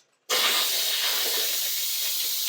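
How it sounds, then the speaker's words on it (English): Steam vents from a rice cooker with a sudden loud hiss that starts abruptly and holds steady and strong, close up, with no talk over it. "I need to let out the steam for the rice"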